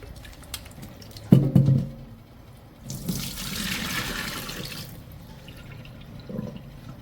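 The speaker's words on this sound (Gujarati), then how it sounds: "લીંબુ લીધા છે મેં લીંબુને ધોઈ લઉં છું" Lemons are washed under a running kitchen tap. A dull thump comes first, then a few seconds of steady rushing water that tapers off into quieter handling sounds.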